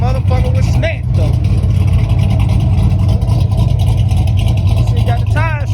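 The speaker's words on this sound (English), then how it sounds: "See, got the tires screeching." A car fitted with a Blueprint exhaust, about 560 lb-ft of torque, rumbles loud and close with a steady low engine drone while voices talk over it; no clear tire screech stands out.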